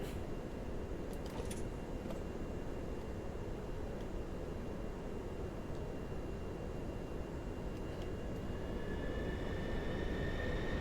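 Pilatus PC-24 jet engines idle and rumble at low power while taxiing in MSFS 2024, a steady broad roar with a faint rising whine near the end, no talk.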